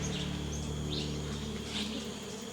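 Bees buzz in a steady, deep drone outdoors on a remote island, a continuous low hum with faint higher whines drifting past and no voices.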